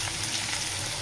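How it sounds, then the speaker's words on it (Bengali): Fish and potatoes fry in hot oil in a pan, a close, steady crackling sizzle that fills the whole stretch without a break, no voices. "আলুটাও লাল লাল করে ভাজা হয়ে গেছে মোটামুটি"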